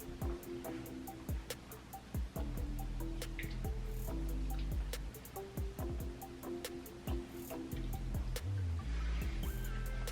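Water splashes and drips while someone washes their face with cleanser at a sink, a busy run of small close splashes and trickles continuing without pause.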